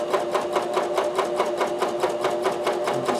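A sewing machine runs steadily, stitching fabric made from recycled socks in a fast, even rhythm of repeated needle strokes, close and continuous with no talking.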